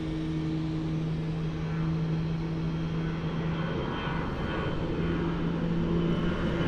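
A Delta airliner on the near runway at Cleveland at night, its engines giving a steady, moderately distant roar with a faint tonal hum throughout.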